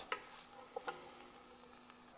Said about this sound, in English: Meanwhile, we're gonna keep stirring our vegetables over here.